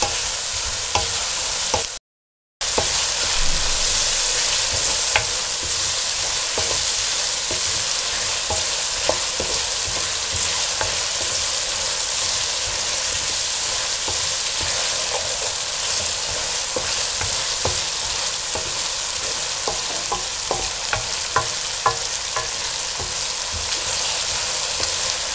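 Tomatoes frying in a pan for dhaba-style aloo keema, with a steady loud sizzle that runs throughout and scattered clicks of a spoon stirring, broken by one brief gap of silence.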